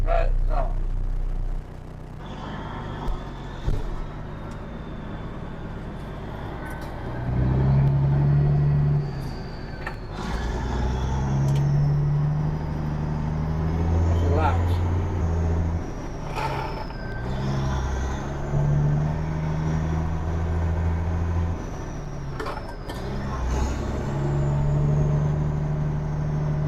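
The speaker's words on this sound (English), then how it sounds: "This is an easy driving truck." Truck with a 3406 400 hp engine and manual 9-speed driving down the road, a steady low diesel rumble rising and falling through gear changes, with people talking over it.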